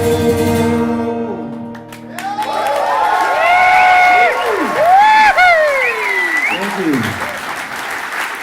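Concert audience in Germany cheering and applauding at a solo acoustic show in a club, loud sustained clapping with shouts and whoops rising over it, a voice singing and calling out.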